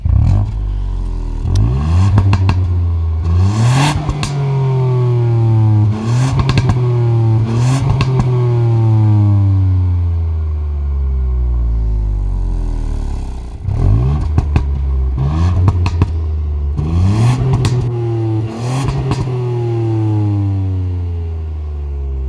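A Ford Puma ST 200 hp engine revs repeatedly, climbing and falling in pitch several times with sharp exhaust cracks between bursts as the exhaust valve closes, loud and close.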